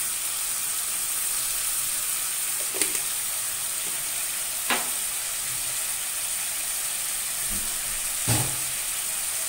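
Spices with turmeric sautéing in a pan, a loud, continuous hissing sizzle throughout, with a few isolated clinks of a spatula against the pan.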